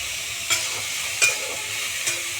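Chicken with beans, carrots, baby corn and peas stir-frying in a pan, a steady sizzle broken by three sharp scrapes of a spatula at roughly even intervals.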